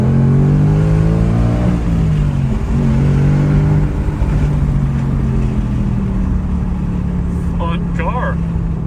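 A 2024 Ford Mustang Dark Horse V8 pulls hard under throttle, its engine note droning loud and close from inside the cabin with windows down, pitch climbing and shifting as it accelerates while someone talks over it.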